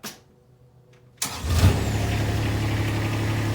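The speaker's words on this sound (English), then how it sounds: "Now I gotta have to start the engine because it has to be running in order to move the bed" A Kubota X1140 utility vehicle engine cranks and starts after a near-silent pause, then settles into a steady, loud, close idle.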